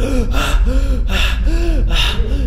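Repeated gasping breaths from a voice imitating a woman struggling to breathe, roughly three sharp inhalations with strained vocal tones, close and loud over a steady low background drone.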